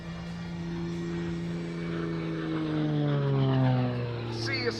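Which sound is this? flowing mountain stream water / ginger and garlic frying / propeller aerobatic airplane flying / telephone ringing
propeller aerobatic airplane flying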